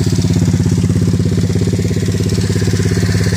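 Honda pit bike engine with a new PZ19 carburetor idling steadily and loud up close, a continuous even putter with no voices.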